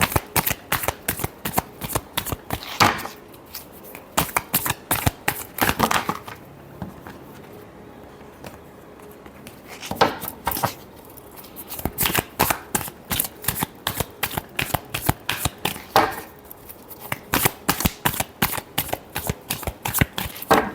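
Tarot cards being shuffled up close in repeated rapid riffling bursts, crisp and fluttering, with short pauses between rounds.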